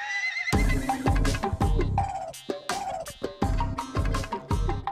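Horse neighing in a Fevicol A Plus glue TV ad, a loud whinny over a busy, rhythmic music track with hoof-like clip-clop beats.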